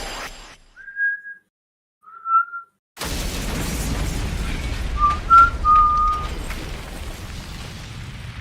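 An explosion in the video game The Hundred Line: Last Defense Academy, heard as a sudden loud boom that cuts off two thin whistling tones and leaves a long rumbling roar, with more faint whistles ringing through it.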